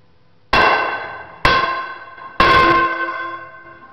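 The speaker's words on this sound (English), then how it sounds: "Get a big sledgehammer that you can hit it hard with." Three hard, ringing metallic clangs as a big sledgehammer strikes a drilling mud saver valve, spaced about a second apart, each blow leaving a bright, slowly fading resonance.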